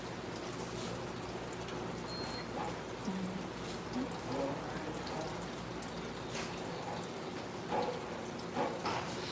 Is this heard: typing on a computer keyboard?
no